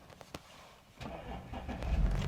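A couple of soft clicks, then an Audi SQ5 3.0 TDI diesel engine cranks by push button and catches, settling into a low, rumbling idle.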